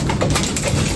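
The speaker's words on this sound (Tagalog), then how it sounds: "Pinapatukan natin sila mga kalapatids, yung galing sa Narciso." Racing pigeons feeding in their loft after arriving from a 183 km derby race, with soft pigeon coos and light fluttering and pecking over steady background noise.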